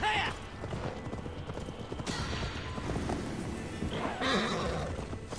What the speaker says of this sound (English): Come on, I need my horsey. Come on, horsey.